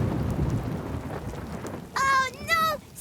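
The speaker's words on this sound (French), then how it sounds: "Oh non, c'est l'orage qui gronde." Cartoon thunderstorm with a low rumbling and rain-like hiss filling the background, followed near the end by two brief high warbling tones.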